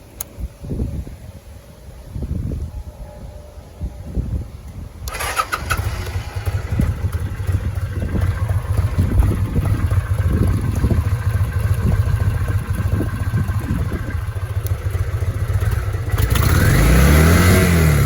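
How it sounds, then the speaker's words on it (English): A 2005 Kawasaki Vulcan VN800 motorcycle being jump-started from a car cranks and catches after a few seconds, then runs with a steady rumble before a louder rev near the end. "you shouldn't rev the engine while it's plugged into another vehicle"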